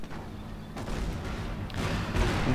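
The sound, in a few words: Calliope rocket artillery barrage in Company of Heroes video game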